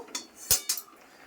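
A metal wok (karai) is set down on a stove with three quick clanks, one heavier thud in the middle, close and crisp, otherwise quiet.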